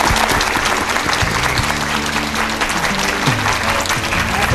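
Loud, dense audience applause in a Korean TV lecture studio welcoming a Sogang University professor, a continuous roar of clapping throughout.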